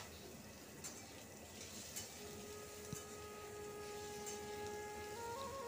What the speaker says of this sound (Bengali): কড়াইতে তেলের মধ্যে সর্ষে ফোড়ন দিয়ে আমগুলো ছেড়ে দিলাম।